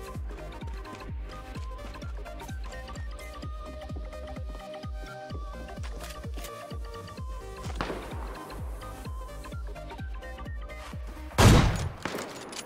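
Rapid automatic gunfire from the shooter game Knives Out hammers out in a steady, fast rhythm throughout, with a louder burst of impact noise near the end.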